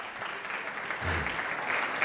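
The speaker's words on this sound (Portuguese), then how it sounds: "Dá um aplauso para o Henrique, aleluia." Church congregation applauding, a steady wash of clapping from many hands with a brief low thump midway and the clapping continuing to the end.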